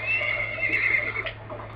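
A horse in the Lone Ranger video game gives a long, loud high whinny that holds for about a second and then breaks off, heard alone with a faint low hum underneath.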